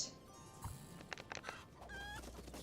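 A chicken in the How to Train Your Dragon video game clucks in short bursts over steady game background sound, with a few sharp clicks and no voices.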